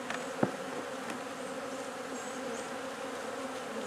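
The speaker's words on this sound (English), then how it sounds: "the bees were getting a little agitated" Agitated honey bees swarm around an open beehive as its lid is fitted, a steady close buzzing hum with a single sharp knock near the start.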